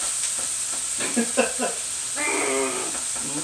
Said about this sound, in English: Go ahead and start chopping that up and frying it